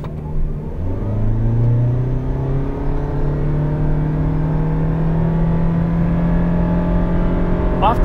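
A 2023 Toyota Prius accelerates hard, its engine note rising steadily in pitch as it climbs through the revs, loud and close with a continuous droning whine and no talking.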